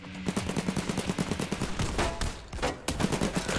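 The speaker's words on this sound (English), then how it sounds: "Enemies are shooting from their rooftops." Enemies in a VR shooter fire down from rooftops in rapid, continuous bursts of gunfire that run with a steady rhythm, loud and close, with brief gaps between volleys.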